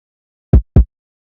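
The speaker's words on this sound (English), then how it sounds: "just a very tight hip hop kick" Two tight, punchy hip hop kick drum hits from the FKI first pack, evenly spaced about a quarter second apart, loud and dry with a deep low thump and nothing else around them.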